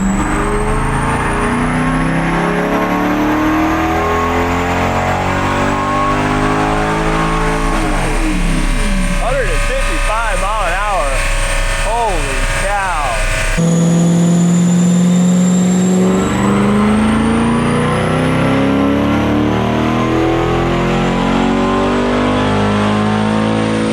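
Chevrolet Corvette C8 on a dyno, its engine roaring loud and sustained as it climbs steadily through the revs in fifth gear, with a brief shift in tone partway through and a person talking over it.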